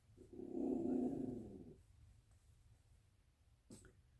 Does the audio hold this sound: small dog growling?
yes